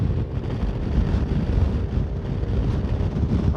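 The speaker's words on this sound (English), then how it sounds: "Is it me, or is this year a hell of a lot more windy than last year?" Steady low rumbling wind buffeting against a microphone on a moving motorcycle, continuous and fairly loud throughout with no voices.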